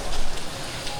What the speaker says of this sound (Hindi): फिलहाल आप लोग मौसम देख के समझ जाइए कि बारिश हो रही है।